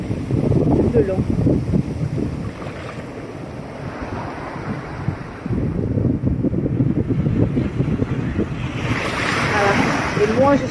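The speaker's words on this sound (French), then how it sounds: "Massage aux vagues de l'océan Pacifique." Pacific Ocean waves slosh and surge around a boat off Vietnam, a loud rolling rush mixed with heavy wind buffeting the microphone, rising and falling in uneven swells.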